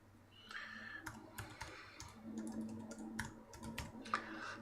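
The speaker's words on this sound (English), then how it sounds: "I'm going to just type in gratification." Someone types a short word on a computer keyboard, a quick run of soft clicking keystrokes close by in a quiet room, with no talking.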